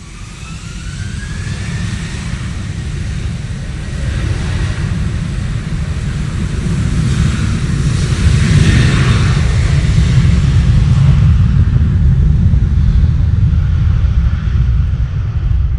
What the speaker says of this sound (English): Got the Norwegian 737 MAX over with us now with the awful tail design